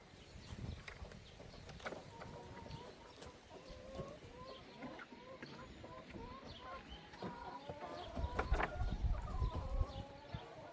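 Chickens cluck and murmur continuously nearby on a New Zealand farm block, soft repeated clucks overlapping, with some rustling and a brief stretch of quiet talk in the background.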